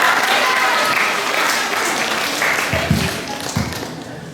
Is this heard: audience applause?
yes